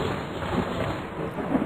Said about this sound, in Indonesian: Dan sebentar lagi akan turun hujan.